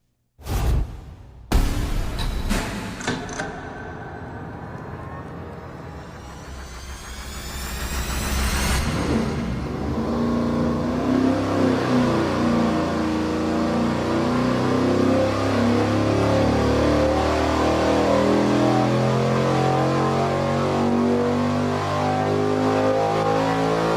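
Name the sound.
race engine revving on dyno, smallest exhaust duration camshaft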